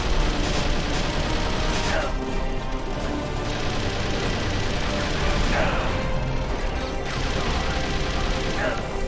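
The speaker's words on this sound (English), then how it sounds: "I couldn't hear it over the gunfire" Sustained gunfire in a Metal Gear Solid: The Twin Snakes game session, a dense continuous clatter of shots and mechanical noise filling the whole stretch at steady high loudness, with a player talking over it.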